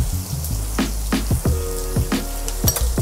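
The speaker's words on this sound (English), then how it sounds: "So a little bit of oil and a little bit of butter. All right, and then I'm gonna put the onions straight in." Onions dropped into a pan of hot oil and melting butter, sizzling with a few sharp clatters and taps over a steady frying hiss, close and fairly loud, no voices.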